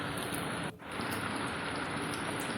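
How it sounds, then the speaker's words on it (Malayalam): Heavy monsoon rain pours down in northern Kerala, a dense, steady hiss of falling water with a brief dip near the start, loud and unbroken otherwise. "ശക്തമായ മഴയാണ്, ഇതുവരെ തോർന്നിട്ടില്ല"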